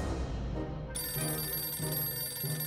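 A telephone rings in the video game 60 Seconds! Reatomized with repeated electronic bell trills in a steady pulsing pattern, loud and up front over constant game background sound.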